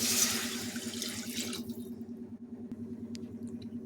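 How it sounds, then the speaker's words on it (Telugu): Two glasses of water gush into a pot for khichdi for a moment, then stop, leaving a low hum with a few faint drips. "2 గ్లాసుల వాటర్ పోసుకున్నామండి"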